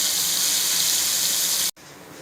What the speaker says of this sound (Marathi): तेलामध्ये बुडबुडे उठले आणि आवाज पण येऊन आला आहे